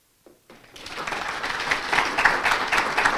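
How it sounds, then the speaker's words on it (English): A conference audience bursts into applause after a presentation, quickly swelling into steady, dense clapping that keeps going strongly to the end. "Are you applauding because I didn't topple over?"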